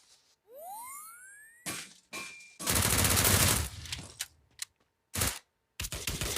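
Enemy gunfire in the Free Fire battle royale game: loud bursts of rapid automatic shots in several separate volleys, with a rising whistle-like sound effect before them.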